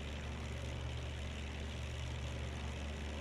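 A Junkers Ju 52 trimotor's engines in a flight game, throttled down to a steady, even propeller drone that stays constant and moderately quiet throughout, with no speech.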